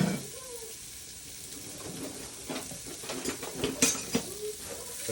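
Sliced shallots cook in melted butter in a pan, a faint sizzle beneath clinking and scraping of a utensil against the pan, with a few louder taps near the end.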